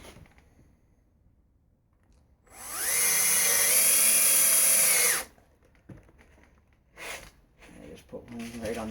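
A power drill drives a screw into the back of a wooden assembly in one loud, steady whir of about two and a half seconds, close by, followed by quieter handling noise and someone talking.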